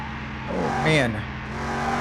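A race car in the Car Mechanic Simulator 2021 video game revs on track, its engine note climbing and sweeping up sharply before settling back to a steady drone. The car sounds close and fairly loud, with a brief squeal at the peak.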